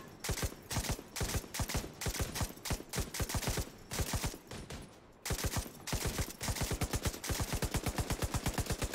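Rapid bursts of automatic gunfire from the video game The Division, played as long held-trigger strings of sharp, loud shots in steady rhythm with short pauses between bursts.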